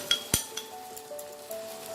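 Spice masala with salt and turmeric sautéing in a pan for methi chicken, with soft sizzling, a sharp metallic clink of a utensil against the pan and a few lighter scraping taps.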